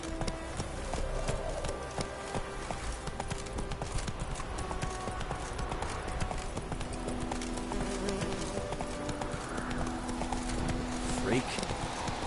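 Roach the horse galloping in The Witcher 3, with a steady rapid clip-clop of hooves running continuously under game music and ambience, while a voice speaks over it.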